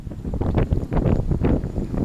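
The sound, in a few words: wind blowing outdoors into the microphone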